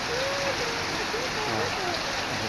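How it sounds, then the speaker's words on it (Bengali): Gentle midday rain falls steadily over a village in Bengal with no wind, a soft continuous hiss throughout, while someone talks over it. "খুব সুন্দর একটা বৃষ্টি হচ্ছে ঠিক দুপুরবেলা"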